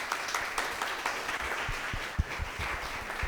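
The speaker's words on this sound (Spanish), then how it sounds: "un aplauso para él" A small audience at a university talk on sea turtle biology and conservation claps for the speaker, a soft, even patter of many hands with a few louder individual claps, fairly quiet and without talk.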